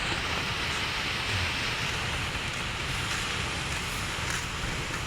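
Waves wash along the seaside in a steady, moderately loud broadband rush, mixed with wind buffeting the microphone, and no one speaks.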